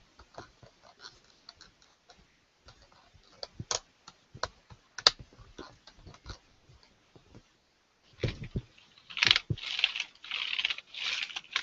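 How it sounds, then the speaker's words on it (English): Keys pressed on a small device, a long run of sharp clicks and taps in quick irregular succession, close and fairly loud, with a brief pause before a denser burst of clatter. "I'm running down the keys and I'm not getting anything on here."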